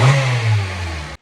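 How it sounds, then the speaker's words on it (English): Stock Honda ZC DOHC fuel-injected engine in an EF Civic, grimy with oil but healthy, running close by with a low steady drone that swells slightly and then cuts off abruptly, leaving silence. "Kind of crazy to think that is probably the last time this engine will be running in this car."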